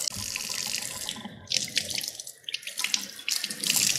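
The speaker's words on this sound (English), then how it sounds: "So I do like to rinse off my fish, like my other meat before I cook it" Tap water runs steadily into a kitchen sink while raw fish is rinsed before being dried and fried, a continuous splashing stream that briefly thins and then swells again.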